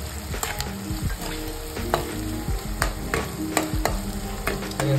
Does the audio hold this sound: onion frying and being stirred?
yes